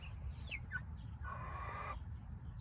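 Chickens in a backyard flock cluck and chirp in short rising and falling calls, close by and moderately loud, with a steady low rumble underneath and a longer buzzing call in the middle.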